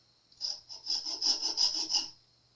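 A file rasps a burr off an Epiphone Casino guitar part in about a dozen quick, even back-and-forth strokes, close and quiet, with no talk.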